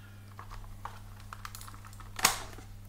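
Fingers type on the angled-key keyboard of an Atari Portfolio palmtop computer, producing soft, quiet, close key clicks at an irregular pace, with one louder clack near the end.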